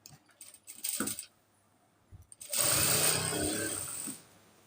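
A sewing machine stitches a seam on straight pants in one loud, close run of about two seconds, preceded by light handling clicks and taps.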